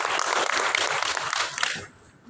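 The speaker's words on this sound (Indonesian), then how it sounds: "Kita tepuk tangan kepada Pak Edi Wiono." An audience at a library book-talk event applauds a librarian, a dense burst of many clapping hands that tapers off quickly into quiet.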